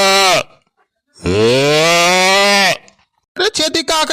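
A man imitates a buffalo with his mouth in an Awadhi comedy sketch, giving a long, loud, drawn-out groaning bellow between short bursts of voiced sounds.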